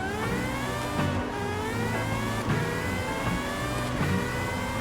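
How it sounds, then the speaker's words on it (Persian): A jet-engined car in Forza Horizon 5 accelerates with a continuous loud whining roar and rising turbine-like harmonics, its pitch climbing steadily, with brief shifts in tone over several seconds. "انگار جته، موتور جت روشه"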